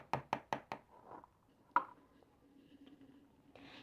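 A container is tapped to shake out its contents while making water slime: four quick sharp knocks, a pause, one more knock, then faint rustling, close and fairly quiet.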